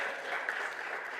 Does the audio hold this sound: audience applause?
yes